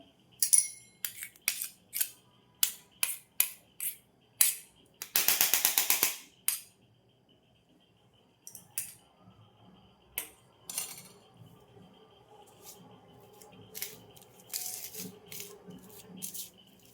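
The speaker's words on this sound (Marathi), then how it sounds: "हे बघा मी कुकरमधून काढून घेतले ते छान मस्त त्याला मॅश करून घेऊ आपण" Boiled sweet potato fresh from a pressure cooker is mashed for fasting gulab jamun, giving a steady run of sharp metallic clicks and clatters of a utensil against the pot, then a burst of rapid scraping and softer, irregular knocks.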